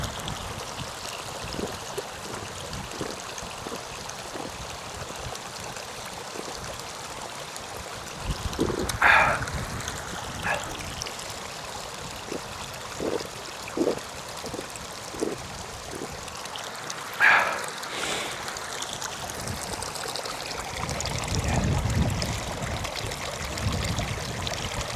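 Water splashing and trickling at a mountain stream while a bottle is filled, with a steady burble throughout and a few louder pouring gurgles in the middle and near the end, heard close up outdoors.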